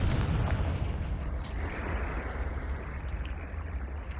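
A Confringo blasting spell detonates in Hogwarts Legacy, a loud, broad booming burst that rolls into a sustained rumbling roar and then settles into a steady, dense rumble that fills the whole stretch, with no voices.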